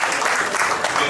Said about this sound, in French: Je vous prie d'applaudir très fort.